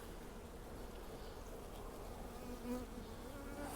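A dense, close buzzing of honey bees on a hive frame of capped brood from a nucleus colony hums evenly throughout, quiet and steady, with no voices.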